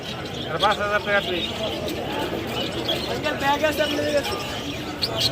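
Caged birds at the Mirpur 1 bird market in Dhaka chirp and coo in repeated short calls over a busy hubbub of buyers and sellers talking nearby.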